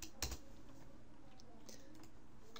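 A computer keyboard being typed on at a desk, with a quick burst of key clicks near the start and a few scattered soft taps after, faint under steady background hiss.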